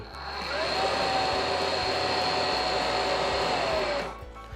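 A Greenworks 40V cordless leaf blower-vacuum whirs steadily at high speed with a loud, constant whine, winding down near the end.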